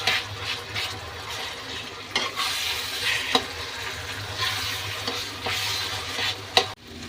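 Brinjal frying with cumin powder and asafoetida in a pan, a loud close hiss of sizzling oil with scraping stirs and a few sharp knocks of the spoon against the pan.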